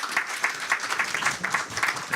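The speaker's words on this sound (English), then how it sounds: "Let's hear it for Tim. Applause" Audience applause at a venture capital panel on AI startups, steady dense clapping from a room of listeners with a few sharper individual claps standing out, sustained throughout at a moderate level with no talking.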